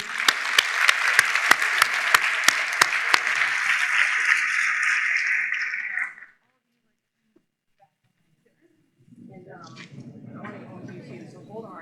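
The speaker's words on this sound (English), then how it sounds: "So let's do one last round of applause." Audience applause at a spring National Honors Society ceremony: a dense round of clapping with a few sharp claps on top, lasting about six seconds before stopping abruptly. Silence follows, then people talk.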